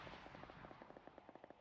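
Rapid mortar fire in the video game PUBG, a quick run of sharp, evenly spaced bursts at a fairly steady rhythm, moderately loud with no talking.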